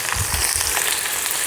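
Small shallots with mustard seeds frying in a pan for sambar, a dense, even sizzle lasting the whole short moment with a few low thumps and no voices.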